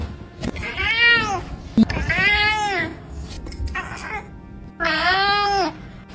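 Rescue cat meowing in a run of long, drawn-out vocal calls, close and loud, four separate meows with short pauses between them and no talking.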